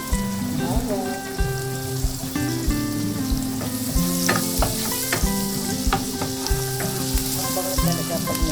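Garlic sautéing in melted butter for budget spaghetti sizzles and crackles steadily in a pan, with a spoon stirring and scraping throughout and music playing along beneath it.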